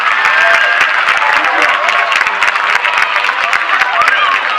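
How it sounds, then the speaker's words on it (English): A crowd at the Starburst 2015 awards and Citizens of the Year event applauds the Starburst Committee, loud close clapping mixed with some cheering and crowd voices, sustained through the whole stretch. "Let's give a big round of applause to the Starburst Committee."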